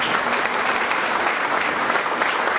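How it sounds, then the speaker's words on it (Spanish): Church congregation giving Jesus a strong round of applause, dense, even clapping filling the room, loud and continuous throughout. "¿Cuántos pueden brindarle un fuerte aplauso a Jesús?"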